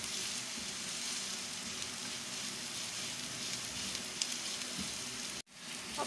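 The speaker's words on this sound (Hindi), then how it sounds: "4 अदद सब्ज़ी मिर्चें लेके मैंने उनकी बारीक बारीक कटिंग कर ली थी, इसको शामिल करेंगे। इसको हल्का सा भून लेंगे।" Finely chopped green chilies fry lightly in a hot pan, giving a steady, close sizzle with soft crackles throughout and a brief break near the end.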